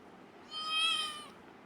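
A pet cat gives a single drawn-out meow, rising and fading over about a second, fairly soft against a quiet room.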